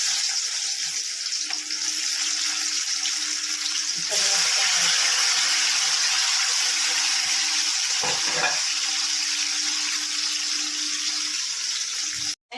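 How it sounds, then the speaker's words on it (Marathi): Chopped onion and tomato hit hot oil for a besan vadi amti, giving a loud, continuous broadband sizzle that holds steady for several seconds, with faint speech in the background. "आता हे तेल गरम झालं आहे तर मी टाकत आहे"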